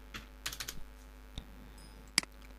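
Typing on a computer keyboard while coding: a short cluster of light, quick key clicks, then a single tap and a sharper keystroke near the end. The clicks are close and faint in a quiet room, and no one talks.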